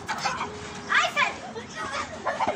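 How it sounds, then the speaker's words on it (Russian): Children running about and playing in a pomegranate garden in November, their high voices chattering and calling out in a lively outdoor hubbub that rises and falls over a couple of seconds. "еще дети здесь бегают. Шум здесь"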